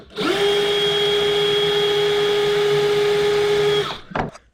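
A drill whines steadily at high speed for several seconds, center drilling into metal on a Honda S2000 trunk, then spins down with a brief clatter at the end.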